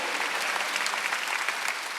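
Church congregation clapping at a Wednesday service, a dense, steady burst of many hands applauding together at close range for the whole moment.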